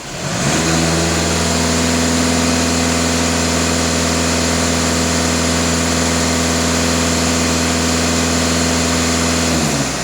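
A VW Passat B8 diesel engine idles steadily with a smooth, constant hum and low mechanical drone, loud and close, unchanging throughout with no talk.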